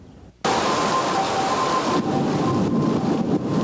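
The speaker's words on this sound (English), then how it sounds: "Torrential rains and damaging winds swept across north-central Iowa." Torrential thunderstorm rain over north-central Iowa during the 1993 floods, a dense, steady roar that starts abruptly and continues without break, loud and close, with no voices.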